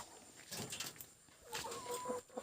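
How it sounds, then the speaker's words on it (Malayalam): Backyard chickens clucking softly in a home coop, a few scattered calls rising and falling at moderate distance, with faint background hiss. "ഇതാണ് എൻ്റെ കോഴികൾ"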